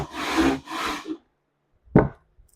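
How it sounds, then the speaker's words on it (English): Sandpaper rubbed across a wooden jumbo guitar top: two long, loud broadband strokes, a shorter third, then a pause and one brief scrape, close up with no talk. "that was just a short duration of sanding"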